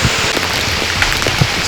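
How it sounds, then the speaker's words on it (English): Heavy monsoon rain pours down on a trail in the Western Ghats during a trek to Kurinjal Peak, a loud, dense, continuous hiss with scattered nearby drops striking surfaces. "Okay, so it started raining now."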